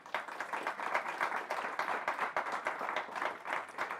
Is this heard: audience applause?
yes